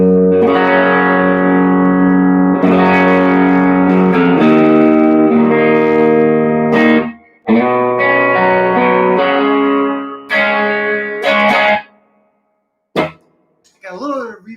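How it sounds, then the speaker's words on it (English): Sustained electric guitar chords through a Nobles overdrive ring out with a wet '63 spring reverb wash from an M9 pedal and some grit, pausing briefly before a few final strums and decaying notes. "Got a little bit of reverb, this 63 spring reverb coming from the M9."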